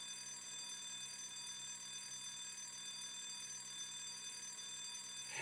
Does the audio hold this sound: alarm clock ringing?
yes